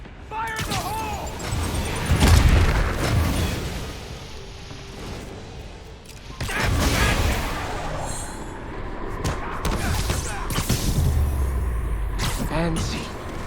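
An explosion in Marvel's Spider-Man Remastered bursts in deep booming thuds, one heavy blast near the start and another swelling rumble midway, with further rumbling impacts and a voice shouting in between.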